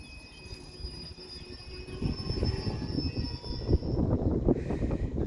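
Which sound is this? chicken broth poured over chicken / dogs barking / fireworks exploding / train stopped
train stopped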